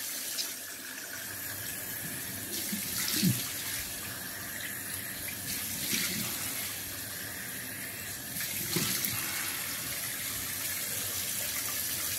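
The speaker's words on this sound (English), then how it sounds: "And I'm going to go to cold water here. And I do a cold water rinse." Tap water runs steadily into a sink for a cold rinse after a wet shave, a continuous splashing hiss with occasional shifts as hands pass through the stream; no voices.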